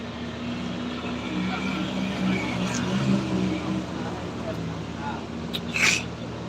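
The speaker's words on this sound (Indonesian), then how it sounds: "Ada dam truk muatan batu bara." Heavy dump truck loaded with coal passing on the Sitinjau Lauik mountain road, a broad steady engine rumble with road noise swelling slightly as it goes by, heard from moderate distance.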